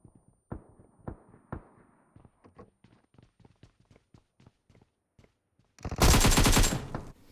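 Tommy gun and shotgun fire in the mobile battle royale game BGMI: a run of sharp single shots and short bursts, fairly close and steady, ending in a loud, dense blast of gunfire.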